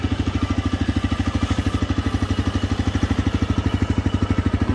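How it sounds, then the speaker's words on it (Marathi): A TVS Raider 125 motorcycle with its 125cc BS6 fuel-injected engine idles close by, a steady, loud, evenly pulsing thump that holds a regular rhythm throughout with no other sounds. "गाडीचा इंजिनचा साऊंड अशा पद्धतीने आहे।"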